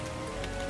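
Steady rain falling on a surface, a constant soft wash of drops with no pauses, fairly quiet and even throughout.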